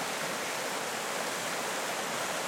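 Creek rapids in the Northwest Territories rush in a steady, dense broadband wash, unbroken and moderately loud throughout, with no voices.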